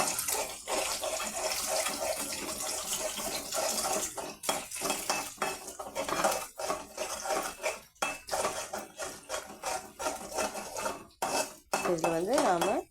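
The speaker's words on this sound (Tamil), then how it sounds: "முட்டை ஊற்றிட்டு நல்லா வதக்கிக்கோங்க" Eggs are stirred in a pan while making egg semiya biryani, with busy clinking and scraping of a utensil against metal, intermittent clatter and a watery hiss, fairly close and continuous.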